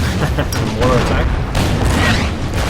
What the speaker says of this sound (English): Mortar attack.